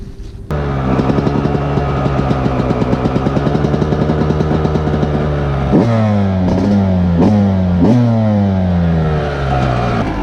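A Yamaha 125 YZ two-stroke dirt bike engine warms up close by, holding a loud, steady rasping idle before several sharp throttle blips that rise and fall in quick succession.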